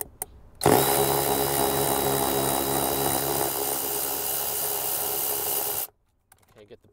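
A powered driver with a Torx 50 bit backs a bolt out of a 2015-2021 Shelby GT350 or GT500, one loud, steady, high whir running about five seconds before cutting off abruptly into near silence.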